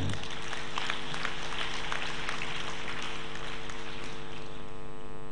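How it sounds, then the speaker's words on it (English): Audience applause at a 2019 graduation ceremony of Father Muller Homoeopathic Medical College and Hospital, a broad steady wash of clapping with a low hum beneath, sustained for several seconds. "I request you all to give a huge round of applause to them."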